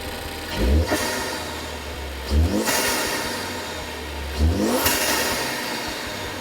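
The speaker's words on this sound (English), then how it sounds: "You can really hear the turbo blow-off valve now through the intake" A 2013-2014 Ford Focus ST with a cold air intake and filter revs three times in sharp bursts, each rise ending in a hissing turbo blow-off valve whoosh, loud and close with a steady idle between.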